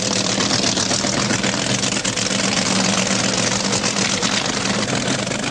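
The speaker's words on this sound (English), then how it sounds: "Garlits brings down his Swamp Rat dragster for his second mandatory qualifying run." A drag-racing car's 2,000-plus horsepower engine, on the Swamp Rat dragster at a 1976 Santa Pod Easter meeting, idles with a dense, loud, constant rumble and rattle, close and unbroken without speech.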